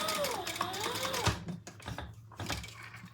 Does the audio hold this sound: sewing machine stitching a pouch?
yes